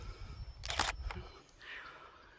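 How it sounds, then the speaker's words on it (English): A few quick mechanical shutter clicks from a camera close by, in a soft burst over faint background hiss. "I heard the shutter on the camera"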